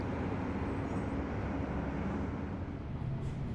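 Steady rumble and rolling rail noise inside a moving train in Sydney, a continuous low drone with no voices.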